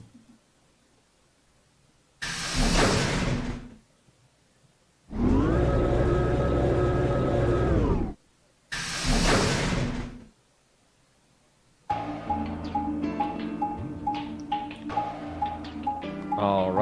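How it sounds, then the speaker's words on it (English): Chromatic doors closing in the video game Virtue's Last Reward: loud mechanical door slams and a long grinding slide come in separate bursts with silence between, followed by a ticking, whirring mechanism that carries on to the end. "Chromatic doors closing."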